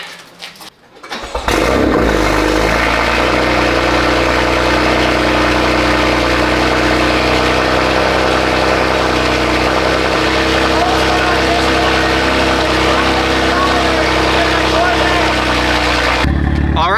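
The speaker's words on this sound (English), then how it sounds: "I think it's time we get one last cold start with the Grail exhaust" A BMW M4 engine cold-starts with a Grail exhaust, cranking and firing up, then settling into a loud, steady, rumbling idle through the deep exhaust, close by and continuous.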